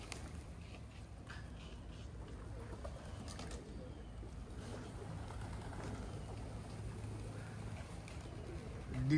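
Many birds arriving together in heavy fog make a steady, dense murmur of cooing calls and fluttering, with occasional voices talking faintly nearby.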